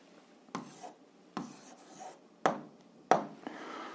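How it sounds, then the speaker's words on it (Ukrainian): Pen or marker strokes scratch across a surface while an answer is written out, four short bursts of rubbing separated by brief pauses, close and fairly quiet with no talking. "Ну що ж, ми одержали Q, а зараз записуємо відповідь."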